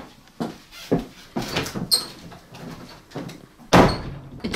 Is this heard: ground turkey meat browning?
no